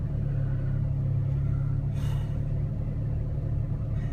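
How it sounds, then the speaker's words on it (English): A Jeep Cherokee grinds along off-road with its rear tire slipping, a low, steady engine rumble heard fairly close, with a brief hiss of spinning or scuffing near the middle. "See how that back tire's slipping right there?"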